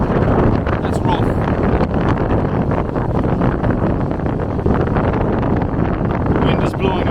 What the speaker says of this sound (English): The wind is blowing about 30 to 40 miles an hour.